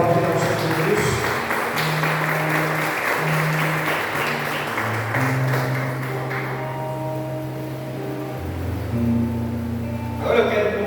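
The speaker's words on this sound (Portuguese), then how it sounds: "Você pode aplaudir ao Senhor Deus?" A church congregation at a missions service claps along with sustained applause while organ-like sustained tones play underneath, the clapping steady and dense throughout.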